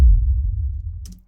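Low boom sound effect for an animation, a deep rumbling hit that swells at once and slowly decays over about a second, with a faint high flicker near the tail, close and alone.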